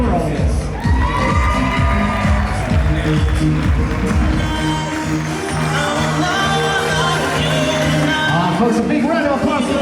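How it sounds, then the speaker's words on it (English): Wedding guests roar with cheers, whoops and shouts as members of the wedding party are introduced, a loud, steady crowd din lasting the whole stretch. "a big round of applause for our maid of honor, Alexa Brown, along with Darren Greenwood"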